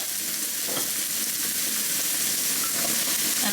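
Cubed butternut squash drops into a hot frying pan for a coconut prawn curry, giving a steady loud sizzle and frying hiss with some stirring, no voices.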